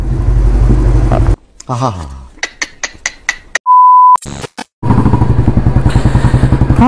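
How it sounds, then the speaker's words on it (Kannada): Busy Bengaluru road traffic with engines and motorbikes rumbling, broken by a quick series of short horn beeps and one long steady tone before the traffic returns. "ಟ್ರಾಫಿಕ್ ಮಾತ್ರ ಕ್ರೇಜಿ ಆಗಿದೆ"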